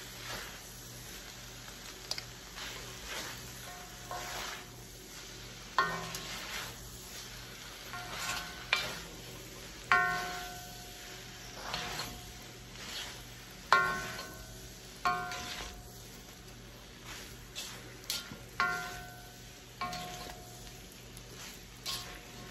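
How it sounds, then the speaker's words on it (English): Fresh yellow egg noodles with beef and vegetables being stirred and tossed in a hot pan, a steady soft sizzle under intermittent scraping strokes of a utensil recurring every second or two, close and fairly quiet. "Ihalo natin yung ating gulay sa ating fresh noodles."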